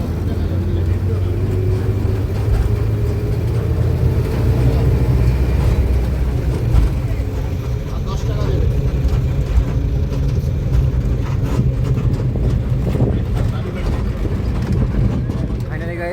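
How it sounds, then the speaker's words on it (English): Steady engine drone and road rumble from inside a moving minibus in Kolkata, continuous for the whole stretch, with people talking over the noise. "This is the Nakola minibus, so I can go through this bus."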